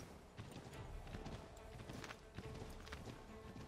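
Steady clip-clop of horse hooves in a quick walking rhythm, fairly faint, with a low background bed and no talking, in the video game Assassin's Creed 3 Remastered.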